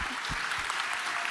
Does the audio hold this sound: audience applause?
yes